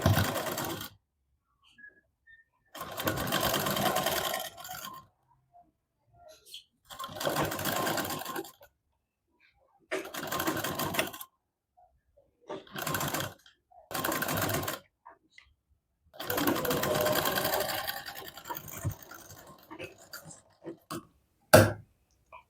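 Sewing machine stitching a katori blouse, running in several separate bursts of rapid mechanical whirring with short pauses between, close and fairly loud, ending with a few brief clicks.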